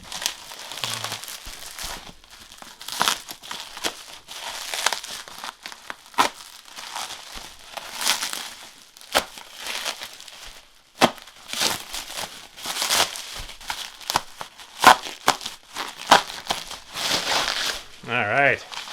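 Bubble wrap wrapped around a stack of video games is pulled and unwrapped, giving continuous close crinkling and rustling with sharp crackles and a few pops, while someone talks intermittently.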